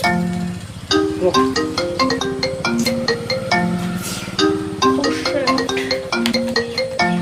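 A mobile phone ringtone plays an incoming call, a bright repeating electronic melody of short tonal notes that runs loud and close through the clip, with a brief pause near the start.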